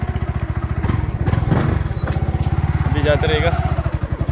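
A motorcycle engine thumps in a fast regular putter while riding through town, close and loud, with people talking over it throughout.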